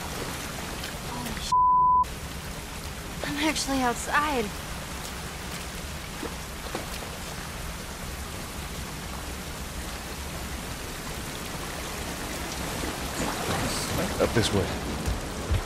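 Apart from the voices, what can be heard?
rain falling in video game The Last of Us Part I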